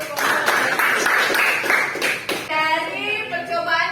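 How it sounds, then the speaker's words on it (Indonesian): A classroom group gets a short round of hand clapping, a quick run of sharp claps lasting about two seconds before voices take over. "Kita berikan tepuk tangan untuk kelompok"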